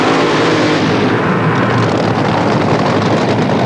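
A 2,000-horsepower nitro-burning Top Fuel dragster engine roars continuously and loudly at a drag racing event, a thick, saturated, rumbling blast with no break and no talk over it.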